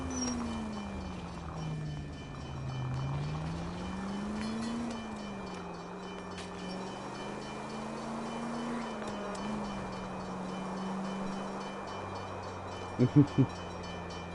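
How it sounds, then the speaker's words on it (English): A low, steady rumble of a passing train in a video game, with a droning hum that rises and dips, continuous throughout, with a couple of brief clanks near the end. "I hear train."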